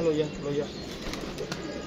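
A pigeon coos softly at the start, followed by a low rustling, murmuring background with a few faint flutters.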